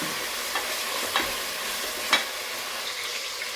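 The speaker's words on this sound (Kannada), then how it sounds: "ಈಗ ಟೊಮೆಟೊ ಸಹ ಚೆನ್ನಾಗಿ ಎಣ್ಣೆಯಲ್ಲಿ ಅದು ಚೆನ್ನಾಗಿ ಫ್ರೈ ಆಗಬೇಕು." Tomato frying in oil for mushroom biryani, a soft, steady sizzle close by, broken by a few light scraping stirs of a spoon against the pan, with no talking.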